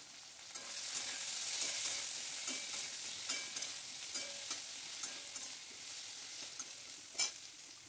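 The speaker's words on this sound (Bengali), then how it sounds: "পেঁয়াজটা আর আলুটা ভালো করে একটু ভেজে নেব।" Chopped onion and potato frying in a pan while being stirred, a continuous bright sizzle broken by repeated scraping and clinking stirs, close and without talk.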